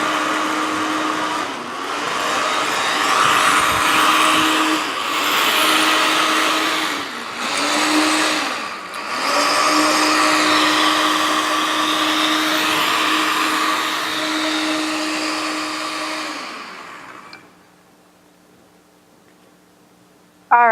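A countertop blender mixing formula roars loudly and steadily, its motor dipping briefly a few times before cutting off near the end, leaving a quiet room.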